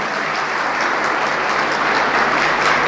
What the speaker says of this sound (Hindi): एक बार इनका जोरदार ताली से स्वागत करें।